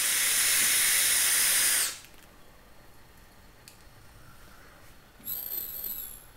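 A Kepler Stingray X clone mechanical vape mod fires with a loud, close vapor hiss lasting about two seconds, then quiet, then a second, shorter and fainter hiss near the end.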